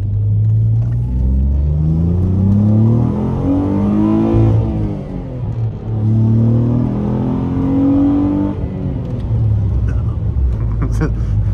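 A Ford Mondeo ST220 engine rumbles loud and close from inside the car on a night drive, revving up through the gears with rising pitch sweeps and brief dips at each shift.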